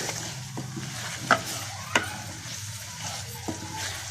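Potatoes being stirred into a sizzling curry masala for a potato egg curry, with steady frying hiss and a few sharp spoon knocks against the pan.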